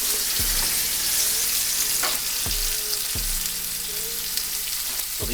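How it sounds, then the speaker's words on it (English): Sweet peppers frying in a hot pan, a loud, steady sizzle with a few sharp knocks and clatters as they are tossed in. "now I'm going to throw my peppers in and cook them face up first"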